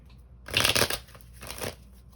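A deck of tarot cards is shuffled close up in two riffling bursts, the first longer and louder, the second softer, with a short pause between them in an otherwise quiet room.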